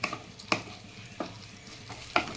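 Soaked Gobindobhog rice stirred and lightly fried in a pan, a quiet sizzle broken by a few distinct spatula scrapes at regular intervals.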